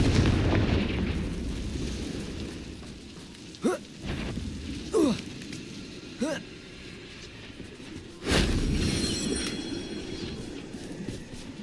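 Confringo blasting spells going off in the video game Hogwarts Legacy, four separate booming bursts spaced a few seconds apart over a steady low rumble, the last one loudest and followed by ringing debris.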